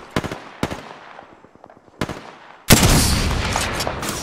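Gunshots in the video game Apex Legends: a few sharp, well-spaced cracks with ringing tails, then a sudden loud, sustained burst of rapid fire close by.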